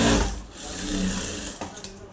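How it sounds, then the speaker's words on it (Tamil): Sewing machine stitching a blouse, a quick close run of whirring needle strokes that slows and stops after about two seconds. "இது ஒரு தையல் போட்டுக்கோங்க மேலே"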